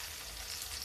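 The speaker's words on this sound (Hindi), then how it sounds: "धीमी आंच पे देखिए परवल पकने लग गया है" Pointed gourd (parwal) cooks in a pan over a low flame, giving a brief, steady soft frying hiss with no talking.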